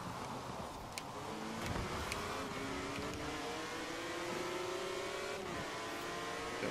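A BMW drifts in the racing game Forza Horizon 4, its engine holding a loud, steady whine that climbs gradually in pitch under continuous road noise.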